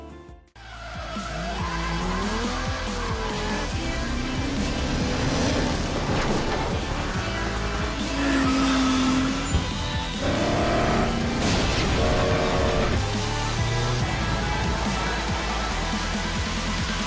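Racing cars roar and tires squeal in an Xbox One racing video game, a dense, continuous mix of engines, skids and effects layered over music, loud and unbroken throughout.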